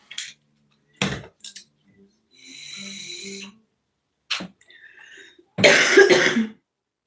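Several separate coughs, close and fairly loud, scattered with pauses between them, the last one harsh and drawn out.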